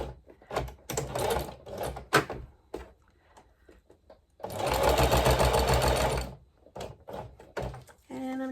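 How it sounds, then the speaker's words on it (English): A heavy-duty sewing machine stitches with metallic thread in short whirring bursts, then runs for one longer steady stretch. Quiet gaps between the runs carry small handling thunks and clicks. "I've had a good experience with the metallic thread in this heavy duty machine in the past"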